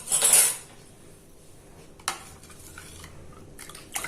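A spoon stirs tamarind panakam drink in a vessel. A loud metallic clink opens, and a few lighter spoon taps and faint liquid swirling follow.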